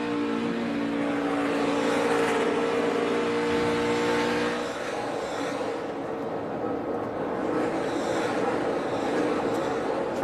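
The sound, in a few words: NASCAR race cars on track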